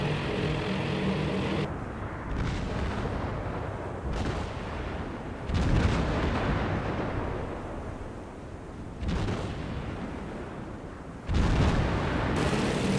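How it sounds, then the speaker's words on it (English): An aircraft carrier's anti-aircraft guns blaze away in the Task Force Admiral naval combat game, heavy rumbling gunfire and booming bursts filling the scene continuously, loud and dense, with sharper blasts every few seconds and no speech. "You can see the carrier desperately firing their AA guns at the Devastator torpedo launchers."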